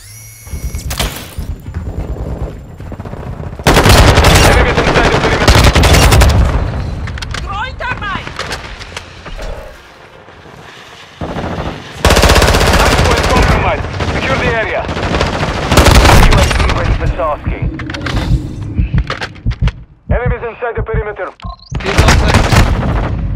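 Heavy close gunfire in Call of Duty: Modern Warfare II, with sustained loud automatic bursts and rattling volleys broken by short lulls and radio-style voice callouts.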